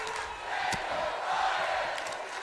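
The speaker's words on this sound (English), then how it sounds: "the crowd sounding off" A virtual arena crowd roars in a WWE 2K18 wrestling match, a broad, sustained wash of cheering that swells and dips, with a few sharper shouts poking through.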